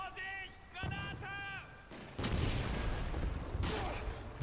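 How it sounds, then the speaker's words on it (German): Grenade explosions and gunfire crack and boom in the Call of Duty 2 war game, two sharp loud bursts following brief electronic tones and shouting. "Vorsicht, Granate!"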